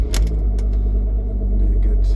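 A car engine rumbles close and loud, a brief clatter of keys or starter at the start before a steady low idle.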